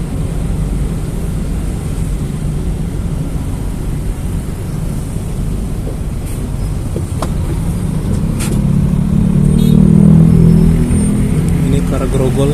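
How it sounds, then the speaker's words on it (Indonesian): A city bus passes at a busy Jakarta bus stop, its engine rumble building steadily and peaking near the end amid continuous traffic and station noise; voices speak faintly in the background. "Itu bus Laudek ya."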